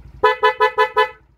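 A Suzuki Raider J Fi 115 motorcycle horn gives five quick, loud, close beeps in a steady rhythm, each a bright buzzy tone, with a low idle rumble underneath.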